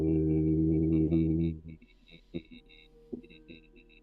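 A voice imitates an eerie low bass chorus with a deep, low-pitched hummed 'ooh' that holds steady for about a second and a half, then cuts off, leaving only faint scattered noises.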